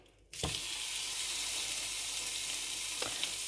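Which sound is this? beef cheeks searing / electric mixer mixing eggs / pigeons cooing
beef cheeks searing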